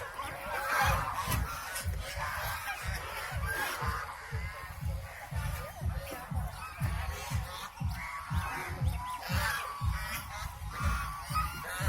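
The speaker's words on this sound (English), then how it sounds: "they are just ordinary waterfowls" Waterfowl at Sanjay Lake honking in a dense, continuous chorus of overlapping calls, close and lively throughout, with no talking.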